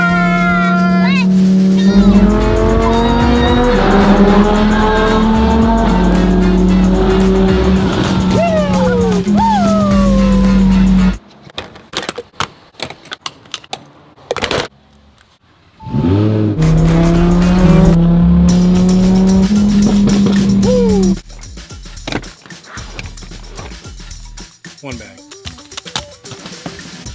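A rare supercar revving hard through a tunnel, loud engine notes sweeping up and down through the gears with echoing roar, a quieter break in the middle, and voices speaking over it.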